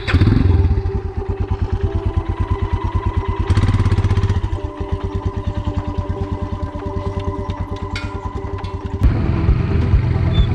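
A motorcycle engine thumps steadily, close and loud, in an even pulsing rhythm while it rides along a quiet mountain route in the Kullu valley, with a brief rise in revs partway through and no talk.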